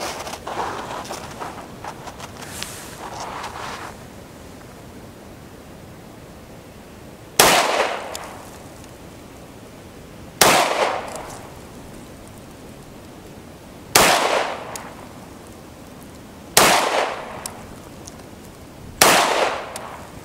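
Five sharp, loud pistol shots spaced a few seconds apart at a shooting range, each with a short ringing decay, fired from close self-defense distance; a 1987 handgun with a slide that locks back, no talking.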